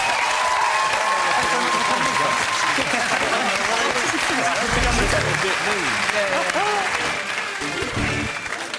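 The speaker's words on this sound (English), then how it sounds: "Give them a round of applause" A television quiz-show studio audience gives a sustained round of applause, a loud, even roar of clapping lasting nearly nine seconds, with cheers and voices rising and falling through it.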